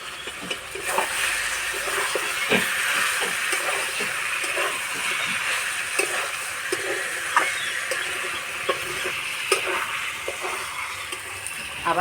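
Chicken fries and is stirred in a pan, giving a steady close sizzle and hiss broken by scattered light pops and utensil clicks throughout.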